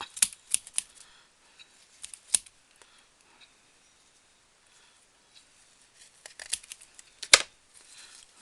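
Scissors cutting ribbon while decorating a tin can, a few sharp crisp snips in quick bursts near the start and again toward the end, with quiet pauses between and no talking.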